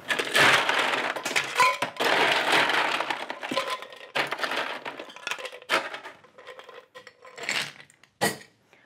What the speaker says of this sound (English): And we're going to shake this up.